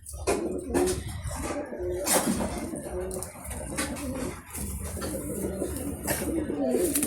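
Pigeons of a heavy A-class fancy breed coo in low, soft, repeated murmurs. Clattering and shuffling noises run through the steady background.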